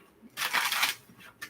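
A deck of cards is shuffled once in a quick riffle, a brief soft burst of papery fluttering followed by a faint tap a moment later.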